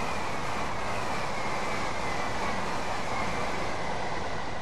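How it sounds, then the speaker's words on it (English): A Class 375/9 electric multiple unit passes through a station as a steady, broad rushing roar of wheels and motor, continuous and fairly even in loudness throughout. "we'll get a flypast view of the train going through this station"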